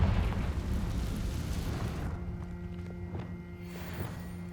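A Confringo spell explodes in the video game Hogwarts Legacy, a loud, rumbling fiery blast that decays into a low lingering rumble with a few faint thuds after it.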